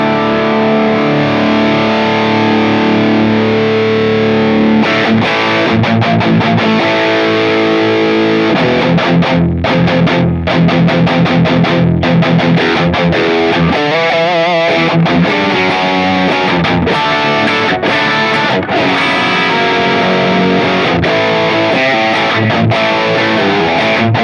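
A guitar played through a Mesa Boogie Mark series amplifier in extreme mode gives a loud, saturated distorted tone, with sustained chords and choppy riffs that continue without pause and no talking.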